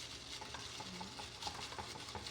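A straw stirs a drink in a cup, giving a faint, continuous swirling and light clinking under a soft background hiss, with no talking.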